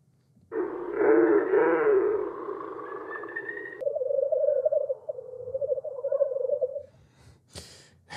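A scary forest sound effect plays, opening with low, breathy growl-like tones that give way to a wavering, owl-like hoot. A brief burst of brighter noise follows near the end.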